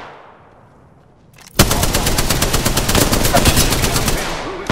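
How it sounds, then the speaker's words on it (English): Sustained automatic weapon fire in Apex Legends breaks out suddenly after a quiet lead-in, loud and close, with steady rapid shots continuing through to the end. "Taking fire."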